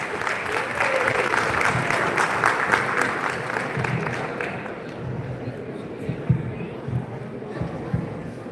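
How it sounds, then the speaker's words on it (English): Audience applause for a speaker at a live NPP UK Branch event, steady clapping from a gathered crowd for several seconds that fades into a quieter room with a voice talking and scattered noises. "Can we all give a big round of applause to Sahodari Tushara?"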